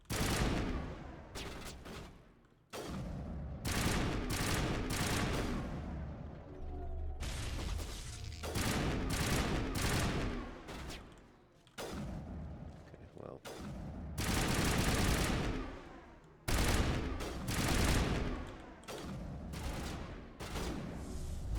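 Sustained bursts of video game gunfire from enemies in Mass Effect, loud rattling volleys in long stretches broken by brief pauses, with a voice talking in places.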